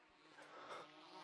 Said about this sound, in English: Yo, the other bees are almost here.